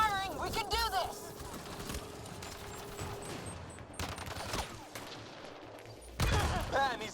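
Battle gunfire in a video game crackles in rapid bursts beneath shouting voices, with volleys swelling and fading and a heavier burst near the end.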